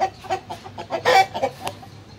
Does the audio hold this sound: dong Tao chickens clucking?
yes